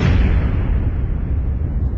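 A massive atomic bomb explosion rumbles as a sound effect, a sustained deep roaring blast that fills the whole stretch loudly and slowly fades in its upper tones, with no talking over it.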